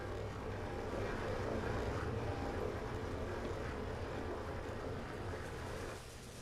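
Thrusters firing on a ship in Space Engineers give a loud, steady engine-like roar with a broad rumbling hiss, holding constant for several seconds before easing slightly at the end.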